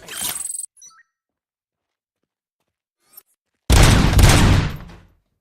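Gunfire in the RoboCop: Rogue City video game: a short loud burst at the start, near silence, then a sustained dense volley of rapid shots lasting over a second, loud and close, with no talk.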